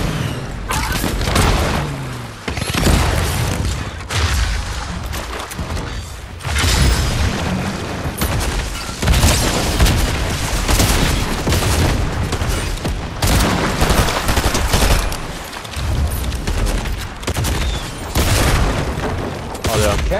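Rapid gunfire and sharp sniper shots in a Fortnite battle, loud and near, coming in dense bursts with short pauses under steady spoken commentary.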